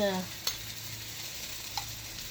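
Garlic dropped into hot oil in a pan for a plant-based dinner, a soft steady sizzle with a couple of sharp utensil clicks against the pan.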